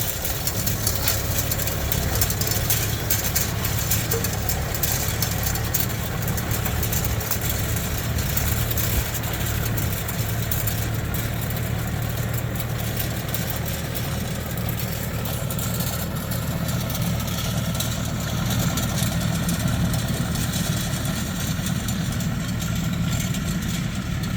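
A CLAAS Talos 240 tractor engine runs steadily while raking grass, a continuous low, throbbing drone at even loudness throughout with no talking.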